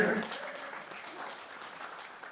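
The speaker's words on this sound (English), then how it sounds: "can we have snaps or claps for that?" Brief, scattered clapping from a small crowd, fairly faint, with voices talking over it.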